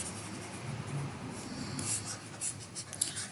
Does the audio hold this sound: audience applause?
no